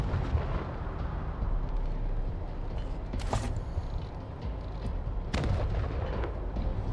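A gunshot fires in Wasteland 3 over a rumbling game soundscape, with a sharp crack near the middle and another heavy burst toward the end, both loud against steady background noise.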